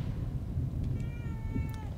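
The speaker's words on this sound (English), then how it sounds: "Pet the kitty. Pet the cat, Sebastian." In the survival horror video game The Evil Within 2, a cat lets out a short meow, then a longer, falling one, soft and close over a low, murky ambient hum.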